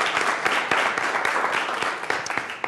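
An audience applauds a guest, the president of NAWBO, at a professional women's community event: steady, dense clapping from many hands filling the whole stretch, fairly loud and close, with no voices over it.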